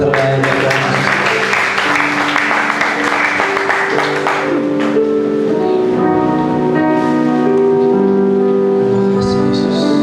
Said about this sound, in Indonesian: Mari kita berikan tepuk tangan terbaik buat Tuhan.